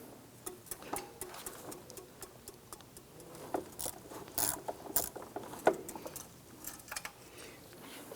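A ratchet loosens fuel injector bolts on a 2007-2012 Nissan Versa, quiet rapid clicking in short irregular bursts, close and fairly faint, with no talking.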